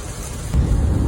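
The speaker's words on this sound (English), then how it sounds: "It went from calm to torrential downpour real quick." Torrential downpour of rain outdoors that suddenly intensifies midway, a dense, steady roar of heavy rainfall with a deep rumbling low end, loud and close with no voices.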